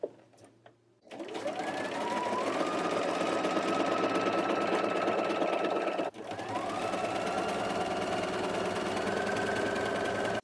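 A sewing machine fitted with a pintuck foot stitches pintucks, running in a long, steady, close whirring hum after a brief start, with a short pause midway before it resumes at the same even speed.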